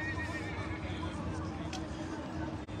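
Peruvian Paso horses neighing at a regional horse show in Cuenca, 2023: a clear, loud whinny rising over a busy arena backdrop, with an amplified voice and crowd chatter underneath.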